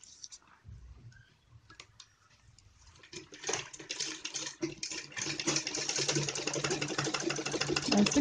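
A sewing machine stitches around a blouse neckline. It starts faint and intermittent, then settles into a steady, rapid, clattering run of stitches that grows louder toward the end.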